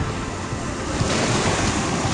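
Ocean surf rolls in at Cabo Branco beach in João Pessoa, Brazil, a loud broad wash of waves and wind noise buffeting the microphone, with no clear talk.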